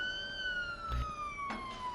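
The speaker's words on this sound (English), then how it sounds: "that siren is going to be super annoying" Police car siren from the Police Simulator: Patrol Officers game, a steady electronic wail gliding slowly downward, loud and continuous across the clip, with a couple of brief low thumps partway through and no talk.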